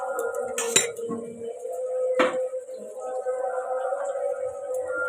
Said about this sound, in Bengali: এটাকে ভালো করে নাড়তে হবে মাছের ডিমটা